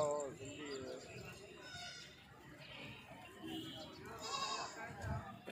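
Sindhi goats, a Nawabshah breed kept for Qurbani, bleat in wavering repeated calls close by, mixed with background voices and steady crowd-like noise.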